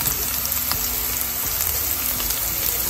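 Ginger and garlic dropped into a pan of browned onions set off a steady, close sizzle of frying that runs unbroken, with faint stirring scrapes underneath.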